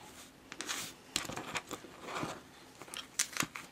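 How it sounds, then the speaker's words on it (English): Scissors snip through thick velvet fabric at a 45-degree angle at the corner of a jewelry display frame, giving a series of close, crisp, uneven cuts with no talking. "If that fabric that you've chosen is a velvet and it's too thick to put back into the frame, you just cut a 45-degree angle there"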